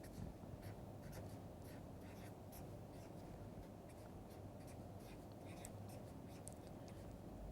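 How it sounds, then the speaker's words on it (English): Chalk or pen scratching steadily while an equation is written out during a probability and statistics lecture, a faint continuous scraping with small tapping strokes throughout and no talking. "this equality, I'm going to write it again clearly"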